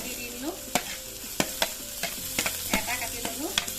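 Chopped tomatoes frying in a pan for pasta, a continuous sizzle broken by repeated sharp scraping knocks from stirring at an uneven rhythm, close up with no talking.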